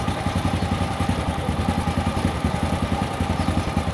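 A motorcycle with a standard carburetor idles steadily nearby during carburetor adjustment, a low, even putter with a regular pulsing beat and no voices.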